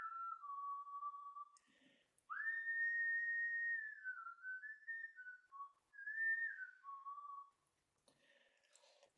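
A person whistles a slow, wavering melody alone in a quiet space, in several sustained phrases with brief pauses between them.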